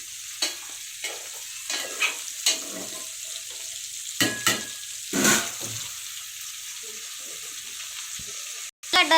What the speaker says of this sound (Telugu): టమాటా వేడితే పచ్చడి వేసేద్దాం